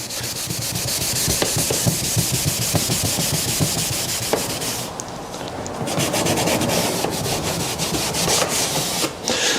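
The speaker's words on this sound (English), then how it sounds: "You can get in with a Scotch pad and some prep paste" Steady abrasive rubbing of a Scotch pad with prep paste across VW Golf paintwork during a cold-weather smart repair, continuous and close with fast back-and-forth strokes throughout.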